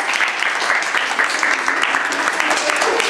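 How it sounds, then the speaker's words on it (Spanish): A university audience claps in a thick, continuous patter for about three seconds, with a voice faintly mixed underneath. "venga las palmas"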